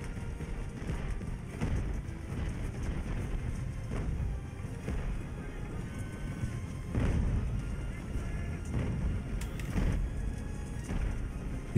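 Mortar and artillery fire in the age-of-sail naval battle game Ultimate Admiral: Age of Sail, heard as repeated low, rumbling booms over a constant battle din, some thumps louder and closer than others.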